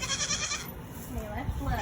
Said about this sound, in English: What does that sound like? Is that a goat? Yes, it is.